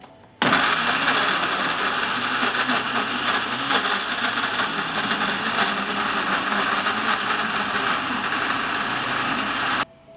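A blender grinding fresh strawberries, running steadily and loudly for about nine seconds with an abrupt start and stop, with no talking.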